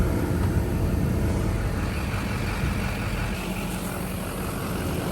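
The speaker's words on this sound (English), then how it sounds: "Oh, the truck's running. It's loud." A farm truck's engine runs loudly and steadily nearby, a constant heavy rumble with no breaks, in an open field of beans.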